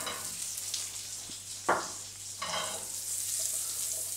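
Shallots frying in hot oil and leftover meat residue, a steady soft sizzle with a brief louder crackle and stir partway through, close by with no talk.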